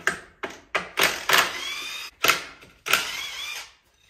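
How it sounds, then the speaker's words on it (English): Sharp metallic clicks and short bursts of socket work on plate bolts of a Kubota SVL 75-2 compact track loader, using a 17mm socket, several close taps followed by longer ringing scrapes in an uneven rhythm. "grab your 17mm socket and pull this plate off here"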